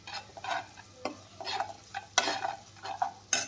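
Spoon scraping and stirring bitter gourd masala in a pan with a light sizzle, in several uneven strokes at close range, no voices.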